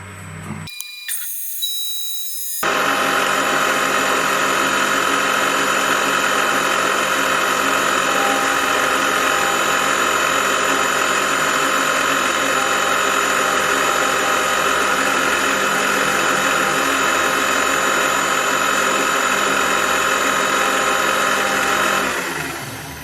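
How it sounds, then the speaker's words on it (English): A milling machine slots into metal with coolant running, giving a loud, sustained whining and grinding drone after a brief quiet start. "Time to bring out some coolant. It's time for slotting."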